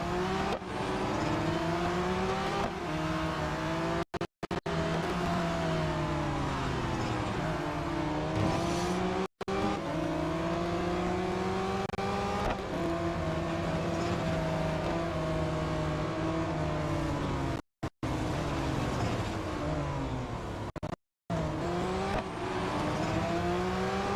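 Race car engine from the Real Racing 3 mobile game, loud and continuous, rising and falling through repeated revs and gear changes for the whole stretch, with a few abrupt dropouts.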